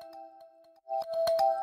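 Second synth line built from a Faceplant preset run through Portal grainy delays, in a remix: a quiet sustained tone, then a burst of brighter, grainy pulsing hits in the latter half.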